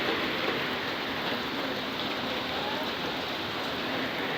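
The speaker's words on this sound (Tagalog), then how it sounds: "Naulan po mga kaibigan." Steady rain falling outside a house, a dense even patter on surfaces that fills the whole moment at a constant level, with no voices over it.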